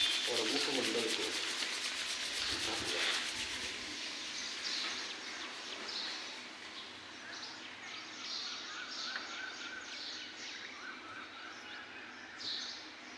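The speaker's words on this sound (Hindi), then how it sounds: "पुनः रगड़ें, तेजी से रगड़ें, ज़्यादा तेज तक रगड़ें" Palms rubbed together quickly and vigorously during a yoga session, a steady close dry swishing friction that carries on for several seconds with faint background chirps.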